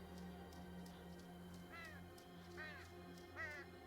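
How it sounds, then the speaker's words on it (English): Crows caw in the video game The Vanishing of Ethan Carter, three distinct harsh calls spaced about a second apart over a quiet, steady ambient hum. "Again, the crows."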